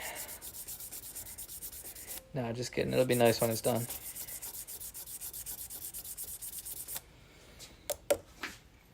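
Steady back-and-forth rubbing of sandpaper on wood, close up, with someone briefly talking over it before the scraping fades to a few scattered strokes.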